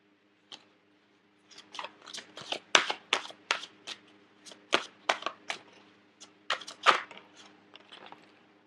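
Oracle advice cards are shuffled by hand: a sparse, close series of soft riffling snaps and papery flicks in irregular bursts, with quiet pauses between them.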